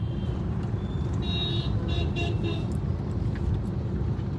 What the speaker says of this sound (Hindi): अरे कचरे की गाड़ी है, धीरे ही चलेगी ना